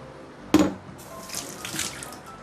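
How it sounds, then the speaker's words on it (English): Tap water running into a pot while cooking Hainanese chicken rice at home: a sudden splash at the start, then a steady hiss of flowing water. "I will add in some water."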